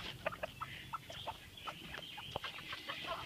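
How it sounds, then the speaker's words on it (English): Chickens cluck and peck while being fed scratch grains behind a farm barn, with many short, bright clucks and chirps overlapping in a steady, busy flock chatter at moderate distance, no voices. "we take this out and feed all these little dainty chickens"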